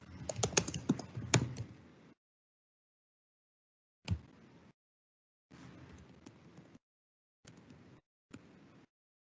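Router commands typed on a computer keyboard: a dense burst of close key clicks, then several shorter separate runs of typing with silent gaps between them, and no talking.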